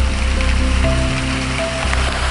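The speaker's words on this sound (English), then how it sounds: "So it continues to rain here at Palau Kapas, and it's quite awesome." Steady rain falling on Kapas Island, Malaysia, a continuous loud patter and wash of water with a constant low hum running underneath.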